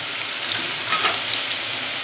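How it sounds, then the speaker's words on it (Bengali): Boiled potatoes fry lightly in a pan with a continuous close crackle and hiss, broken by a few brief scrapes of a stirring utensil. No one speaks. "সিদ্ধ করা আলুগুলো একটু হালকা করে ভেজে নেব।"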